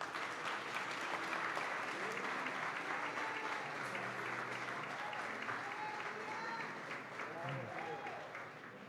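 Church congregation applauding together during a worship service, a sustained wash of clapping with voices faintly mixed in beneath.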